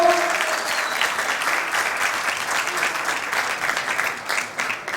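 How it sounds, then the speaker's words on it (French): Audience applause at a Moroccan logistics awards ceremony in Casablanca, a dense, steady wash of many hands clapping that continues throughout at moderate distance, with a faint voice over it at the start. "mesdames et messieurs, sous vos applaudissements"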